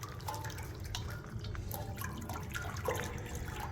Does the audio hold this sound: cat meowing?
no